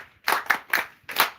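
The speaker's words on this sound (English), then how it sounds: "can we clap for the head teachers who have come?" Students at Galan Katakwi High School clapping for visiting head teachers, four distinct sharp claps in an uneven rhythm, close and clear.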